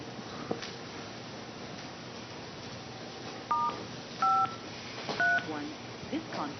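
Telephone keypad tones sound on a conference call. Several short DTMF beeps come in separate bursts against a faint background hum, and brief traces of speech are present.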